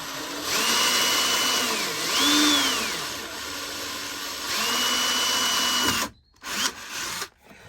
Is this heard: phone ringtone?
no